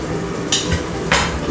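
Mutton sautéing in a pan for white kurma: a dense, close sizzle with two or three quick scraping stirs of a ladle across the pan, loud and without talk.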